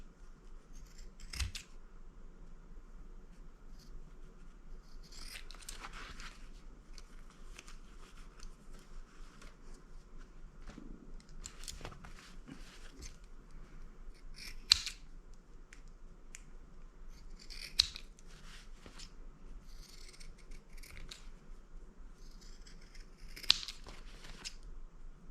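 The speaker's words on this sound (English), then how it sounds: "Now I'm just going to clip my corners. And I'm also going to give them a little angular trim here." Scissors snip and trim the corners of a large leather wallet stiffened with Peltex, giving quiet, sharp clicks spaced irregularly, some louder than others, against a faint background hush.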